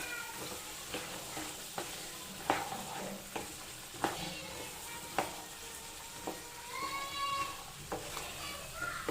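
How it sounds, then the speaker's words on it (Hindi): Black chickpeas sauté in masala as a spoon stirs and scrapes the pan, with regular clinks and scrapes over a soft, continuous sizzle. The sound is fairly quiet and close. "देखिए फ्रेंड, इसे सौटे कर लेंगे अपन।"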